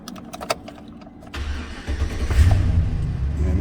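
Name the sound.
GM 1500 truck 5.3 engine starting after key cycle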